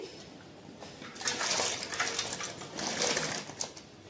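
Green chillies being washed by hand in a bowl of water, with close splashing and sloshing that swells in irregular bursts and carries on steadily with no voices.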